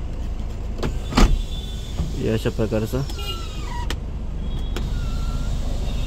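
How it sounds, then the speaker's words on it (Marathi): Electric motor of a car sunroof whirring open with a steady mechanical hum and a few clicks, close up inside a parked car with its quiet engine idling, while someone talks over it. "मी तुम्हाला एकदा सनरूफ ऑन करून दाखवतो."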